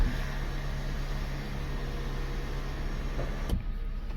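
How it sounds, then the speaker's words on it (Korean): Steady electric motor whir of a Porsche 911 sunroof opening and closing, ending with a soft mechanical clunk as it stops. "썬루프 있는 차량 같은 경우는 썬루프 정상 작동하는지 소음 없고 정상 작동하는지 확인을 해주셔야 됩니다"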